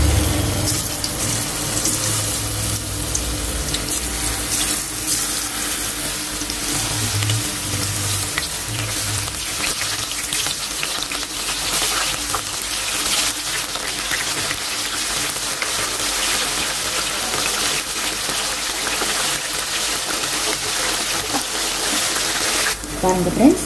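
Mushrooms fry in hot oil for mushroom chili 65, giving a steady, close, hissing sizzle while someone talks over it.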